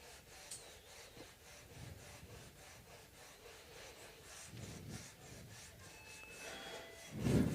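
Coarse sandpaper rubs back and forth across the frets of a 1978 Guild D-50 acoustic guitar in steady, rhythmic rasping strokes, close and quiet, with a louder scrape near the end.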